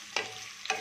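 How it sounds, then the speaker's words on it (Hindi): Pointed gourds (parwal) fry in a pan with two short, close stirring scrapes over a soft, steady sizzle. "पहले हम इनको थोड़ा सा फ्राई करेंगे, तो मैं सारे परवल एक साथ ही फ्राई करूंगी।"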